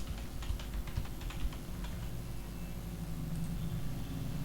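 Ticker text being typed on a computer keyboard for a broadcast character generator, a run of quick key taps over a steady low engine-like hum, fading to just the hum.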